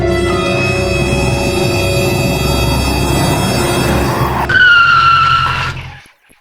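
A car speeding hard with a loud, steady engine roar, then a sharp tire squeal as it skids into a drift before the sound cuts off.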